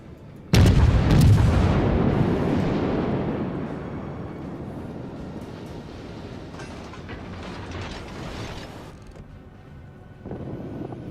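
Heavy naval gunfire aimed at the Italian cruiser Duca D'aosta in a naval warfare game: one loud booming salvo with a long rumbling decay, followed by mechanical rattling and a second, softer rumble at the close.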